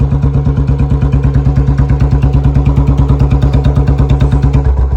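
A Royal Enfield Bullet motorcycle fires up on the self-starter and settles into a loud, close, steady thumping idle with an even, rapid beat throughout.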